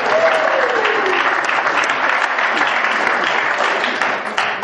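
Steady, fairly loud applause fills a recovery meeting room as members clap for sobriety chip recipients, holding evenly before tapering slightly at the end.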